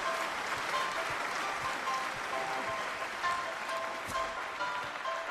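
A circus crowd applauds in a steady, dense patter of clapping that holds evenly throughout, with no voices standing out above it.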